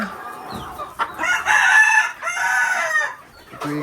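Farm chickens cluck loudly and close by, and a rooster crows once in a drawn-out call in the middle, with no voices over them.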